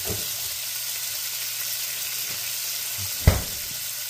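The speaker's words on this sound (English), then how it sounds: "Want to throw a little Worcestershire sauce on the beef here while it's cooking." Ground beef frying in a skillet gives a steady, close sizzle throughout, with a soft scrape or tap near the end.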